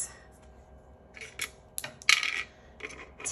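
A pair of dice clatter and tumble across a hard surface, a few light rattling hits building to a louder skittering bounce before settling, close and quiet.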